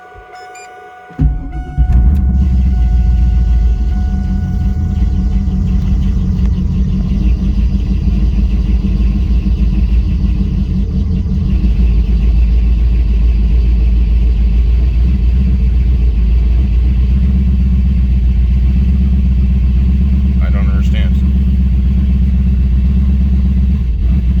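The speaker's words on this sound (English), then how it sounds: "I'll start it and let you see what's going on. The car's completely cold, so it might be angry." A turbocharged LS1 Chevrolet Camaro drag car running on E85 starts up cold after a brief click, then idles loud and steady with a heavy, slightly uneven rumble for the rest of the clip, with no talking.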